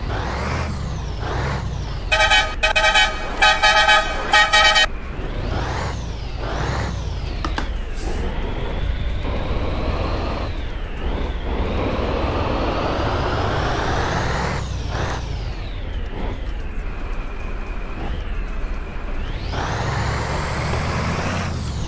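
A Scania 113 truck in Euro Truck Simulator 2 revs its engine loudly and repeatedly, with rising and falling engine tones, a burst of horn blasts early on and air-brake hisses in between.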